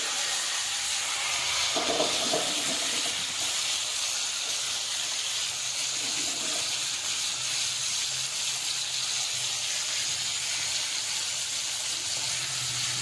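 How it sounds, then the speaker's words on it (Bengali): Small fish, mourala, frying in hot oil for a Bengali prawn and small fish dish, giving a steady, fairly loud hissing sizzle that runs through the whole stretch with a few brief bursts of crackle near the start. "তো মাছগুলো এখন ভাজা চলছে।"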